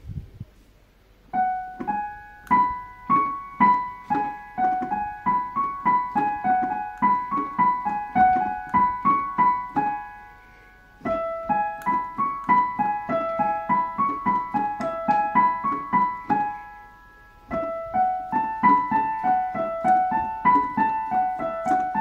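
The piano intro of a song is played alone in clear, close phrases of repeated rising notes, broken by two brief pauses before the pattern starts again.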